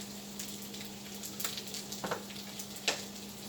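Soft, continuous frying sizzle of shrimp in a pan for hibachi, with crackles, punctuated by a few light stirring taps and clinks nearby.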